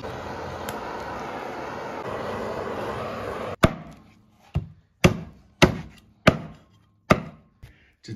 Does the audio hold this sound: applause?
no